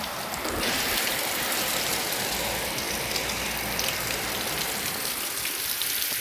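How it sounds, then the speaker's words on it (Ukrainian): Hail comes down steadily outdoors on an early spring day in a Ukrainian village, a dense, continuous rattling patter of pellets striking surfaces with no speech, evenly loud throughout. "Бачимо, град паде."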